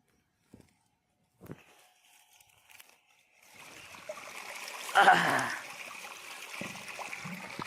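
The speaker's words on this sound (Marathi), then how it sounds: "हा हो, तर पाणी येणं सुरू झालं आता आता याच्यातून पाणी निघन" Irrigation water beginning to flow out of an outlet, with a few faint knocks at first, then a steady rushing, gurgling stream that swells into a louder surge near the middle and settles into a continuous flow.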